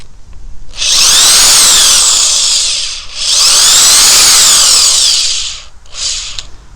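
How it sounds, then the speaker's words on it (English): Power drill driving a Craftsman universal socket onto a partly stripped bolt, two long loud whirring bursts rising and falling in pitch, then a short third burst, close and alone. "And it drilled it in there just fine, and we'll take it out now."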